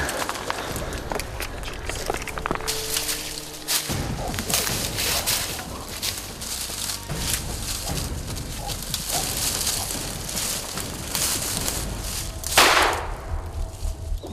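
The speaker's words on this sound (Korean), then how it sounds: "마침내 발사된 총알." A rifle fires at a huge wild boar during a hunt with dogs on an autumn mountain orchard, giving a few sharp, loud cracks over constant rustling and outdoor noise.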